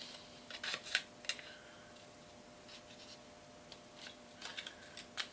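Scissors cut paper pieces for a paper-piecing craft. Faint, short snips come in small clusters, with quiet gaps between them.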